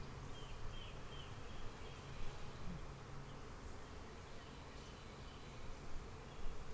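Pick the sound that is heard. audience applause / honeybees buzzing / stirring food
honeybees buzzing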